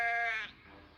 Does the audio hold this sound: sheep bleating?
yes